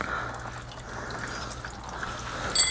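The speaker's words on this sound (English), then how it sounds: "I attached this hose to the radiator, and I'm going to loosen up that right there and see if we can start draining this fluid out of it" Coolant drains from the radiator of a 1997 Cobra through an attached hose, a steady close trickle of liquid with faint drips.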